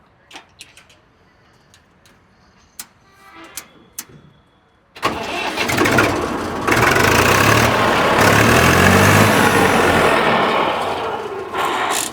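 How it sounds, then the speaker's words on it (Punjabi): A few faint clicks and knocks, then a tractor engine cranks and catches, settling into a loud, steady idle that runs to the end. "ਸਟਾਰਟ ਕਰ ਟਰੈਕਟਰ ਦੀ ਸਟਾਰਟਿੰਗ ਚੈੱਕ ਕਰਾਉਣੀ"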